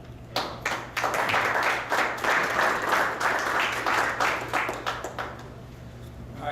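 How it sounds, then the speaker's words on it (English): Audience applause at a boxing press conference, a room of people clapping steadily for several seconds, close and fairly loud, then tapering off. "Keep the applause down."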